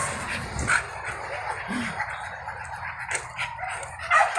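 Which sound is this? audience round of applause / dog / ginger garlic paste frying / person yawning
dog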